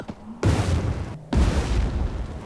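A bomb goes off in the Ice Scream 4 video game as two loud, broad booms about a second apart, each with a long rumbling tail. No one speaks.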